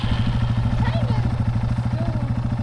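A motorcycle engine idles and is lightly throttled during a beginner's riding lesson, a steady close mechanical thrum with pulsing rhythm and brief rising pitch sweeps as the throttle opens.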